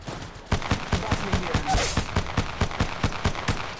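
Rapid automatic gunfire from the Apex Legends Mobile game rings out as a steady string of about a dozen close, sharp shots after a brief quiet start.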